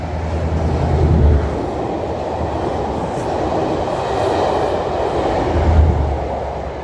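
A Class 43 power car, 43277, passes along a southern England line with a loud steady rumble of wheels on rails and rhythmic low thumps from bogies at intervals, close and without talk.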